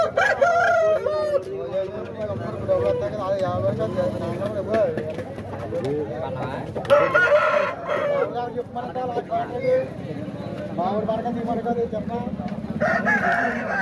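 A country rooster at a Saturday village chicken market crows repeatedly and loudly close by, with clucking fowl and people chatting throughout.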